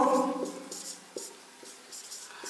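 Chalk or pen strokes on a board during a Class 10 arithmetic progressions maths lesson, a few short scratchy marks spaced irregularly, faint and close, with a teacher's voice trailing off at the start.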